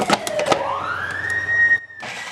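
A Cuisinart food processor with butter added spins up with a whining tone that rises in pitch, runs briefly, then cuts off and restarts after a short pause, with a few knocks at the start.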